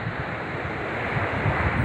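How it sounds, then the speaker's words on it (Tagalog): Ocean waves wash continuously onto a beach at a resort in Morong, a broad steady roar of surf mixed with wind buffeting the microphone, with no voices. "Ganda na mga alon dito"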